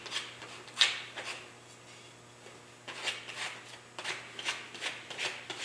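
Hand sanding of a small wooden chip clip to take the burrs off its ends, a series of soft close scratchy rubbing strokes in irregular bursts with short pauses between them, faint and alone.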